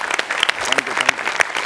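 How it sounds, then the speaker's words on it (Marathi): Audience applause for a comedy stage performance, dense close clapping from many hands with a few sharper claps standing out, a voice faintly underneath. "एकदा नमा आणि प्रसादसाठी जोरदार टाळ्या"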